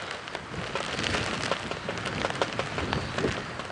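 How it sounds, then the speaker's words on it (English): Rain falls during an early-morning safari drive, a steady dense patter of drops striking surfaces with scattered sharper taps, continuous and fairly loud throughout. "It's a bit rainy."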